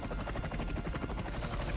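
A helicopter in the PS2 video game From Russia with Love gives off a steady, loud rotor chop and engine drone that holds constant throughout.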